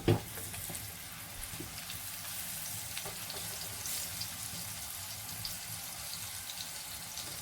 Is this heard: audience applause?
no